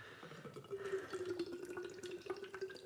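Can-conditioned beer of about 9% strength poured vigorously into a glass, building a big foamy head; a steady close-up gurgling splash runs throughout, with no talking.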